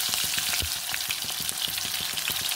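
Onions and curry leaves frying in hot oil for a tempering, with dense continuous crackling and popping sizzle close up, loud and steady throughout, no voices.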